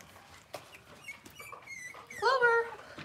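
Cavalier King Charles Spaniel puppies whimper and squeak softly while feeding, faint scattered cries that rise into a louder, high, wavering whine near the end.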